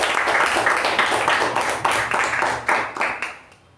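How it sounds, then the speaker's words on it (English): Meeting audience applauding a speaker and an evaluator, a brisk, close round of many clapping hands that thins into a few scattered claps before fading out. "Can we have a round of applause for the speaker and the evaluator?"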